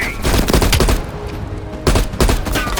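Machine gun fire in the Black Ops Cold War campaign's final mission: loud, close bursts of rapid shots, a pause, then another burst.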